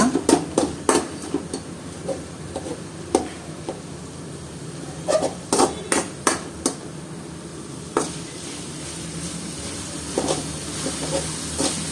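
A knife finely chopping food on a board while cooking egg thokku, heard as sharp irregular taps in short bursts with pauses, close but fairly quiet over a low background hiss, no talking.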